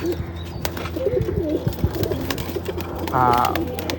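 Pigeons coo in a loft where birds are kept for flying contests, low throaty calls repeating through the clip alongside chirps and a brief flutter, with a voice talking over them.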